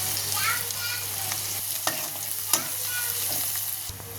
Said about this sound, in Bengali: অল্প পরিমাণে জিরা দিয়ে দেব, হলুদ অল্প পরিমাণে দিয়ে দিচ্ছি